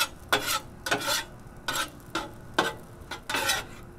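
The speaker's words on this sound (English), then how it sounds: "We're incorporating the rice into that garlic soy butter." Chicken fried rice tossed in garlic soy butter on a 22-inch Blackstone griddle, a spatula scraping across the hot steel in five rhythmic, close strokes over a soft sizzle.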